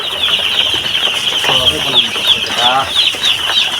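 Chickens and small chicks on a farm cluck and peep nearby, a steady high chirping running throughout with a few lower clucks and a person talking in the background.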